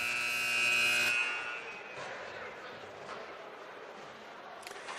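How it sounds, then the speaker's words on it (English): A sustained electronic game buzzer drones loudly for about a second at a 19U girls' hockey game, then cuts off, leaving crowd noise and arena ambience. "the buzzer sounds"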